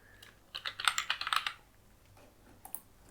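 A burst of rapid computer keyboard typing, an address being keyed into an online GST registration form, with clustered clicky keystrokes for about a second, then quiet with a couple of stray taps.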